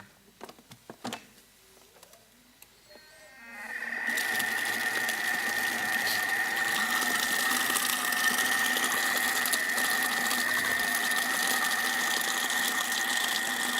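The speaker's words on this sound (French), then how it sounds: "on va le mixer jusqu'à vraiment obtenir cette pâte la plus lisse possible" A blender pureeing carrots into a smooth paste starts up after a few seconds of clatter and then runs as a steady, loud, high whirring drone to the end.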